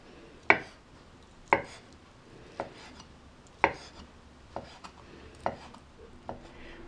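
Knife slicing boiled kidneys into thin pieces on a cutting board, sharp close taps landing at a steady, unhurried rhythm, alone and fairly quiet.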